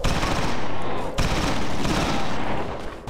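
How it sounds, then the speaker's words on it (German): Sustained rifle gunfire in the video game XIII, loud and dense, with rapid overlapping shots, a brief break near the middle, then continuous firing again. "Das Gewehr ist kacke."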